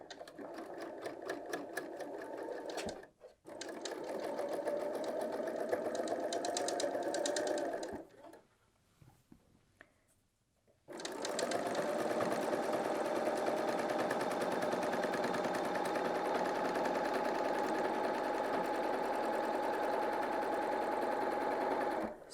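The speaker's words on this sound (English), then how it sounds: "So we'll just sew around." A BERNINA L 890 sewing machine stitches a hem on a woven top, its steady rapid needle chatter running loud and close in two long stretches separated by a brief pause, with no voices.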